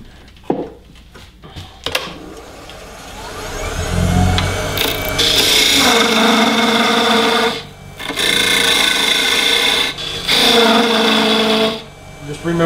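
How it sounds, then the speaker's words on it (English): A wood flower spins on a lathe while it is worked and sanded, giving a steady rasping whir broken by a few short pauses and faint clicks, with someone talking over it. "I'm just going to bring this down a little bit more and then sand it."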